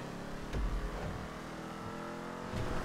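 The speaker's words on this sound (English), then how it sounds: "The car is capable of doing big drifts like that" A car drifting in a GTA video game: a steady engine drone with tyre noise, swelling with brief revving surges near the start and end, close and continuous with no voices.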